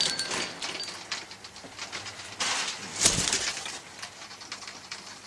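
Newly acquired parrots in an aviary reacting as a keeper steps inside, with bursts of wing flapping and scuffling, rising and falling around a sharp flurry, no voices.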